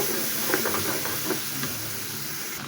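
Water splashed into a pan of fried spices for a home-style roast, giving a steady broad hiss of steam and sizzle with a few soft knocks and stirring clicks, no voices.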